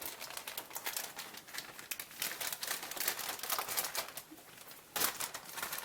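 Crinkly plastic rustling as a bag of plastic parts from a 1985 Camaro Z28 model kit is cut open and handled, a continuous close scratchy crackle with a sharper tear near the end.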